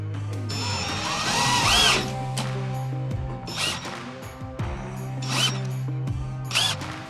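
Power drill driving screws through a hinge into pre-drilled holes, several short whirring bursts that rise in pitch and stop, each run ending with a clunk, loud and close with no talk.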